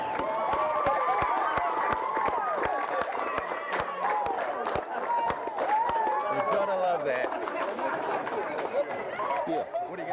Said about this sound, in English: Good crowd building up here at the moment.